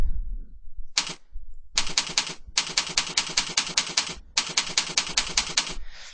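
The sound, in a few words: typing a username and password on a keyboard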